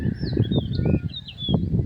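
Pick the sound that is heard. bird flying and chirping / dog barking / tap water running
bird flying and chirping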